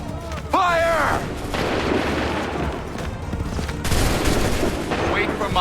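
Soldiers fire a musket volley in Assassin's Creed III, a loud crackling burst of shots followed by rolling booms and battle din, with shouted voices mixed in.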